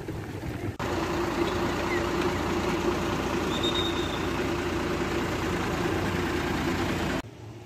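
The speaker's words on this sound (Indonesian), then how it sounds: "semakin banyak bus pariwisata yang datang ke sini" A tour bus engine idles in a parking lot at the Tebing Breksi tourist site in Yogyakarta, giving off a steady, loud, close rumble that runs for several seconds before cutting off abruptly, with no talking.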